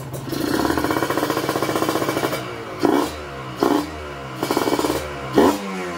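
A Kawasaki Ninja RR motorcycle engine idles with a rapid, throbbing beat, then revs in several short, loud bursts that each quickly drop back to idle.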